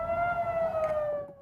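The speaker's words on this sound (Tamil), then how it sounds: "இஸ்ரேலின் வடக்கு பகுதியில் ஏவுகணை தாக்குதல் சைரன்கள் ஒலித்த நிலையில்" Missile attack warning sirens in northern Israel, heard as a steady wailing tone held at a near-constant pitch that slowly drifts downward and fades toward the end, over low background rumble.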